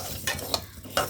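Dal fries in a pan for khichuri while a utensil stirs it, giving three quick scraping strokes over a low, steady sizzle.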